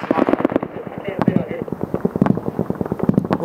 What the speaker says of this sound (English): we're still taking fire here